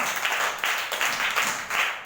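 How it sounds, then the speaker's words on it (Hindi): An audience at a storytelling workshop claps for schoolchildren, a dense patter of applause that swells in waves, moderately loud and steady with little talk. "इसमें बच्चों उनके लिए जोरदार तालियों तो बनती है हमारे बच्चों के लिए।"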